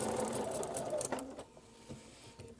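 A sewing machine runs steadily while stitching fabric pieces for a sunflower table topper, a fairly quiet close hum that slows and fades into softer, sparse mechanical ticks near the end, with no talking.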